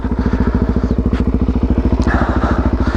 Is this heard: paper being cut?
no